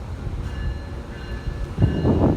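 Amtrak 663 train departing Lancaster station, a steady rumble of rail cars rolling close by that swells louder toward the end.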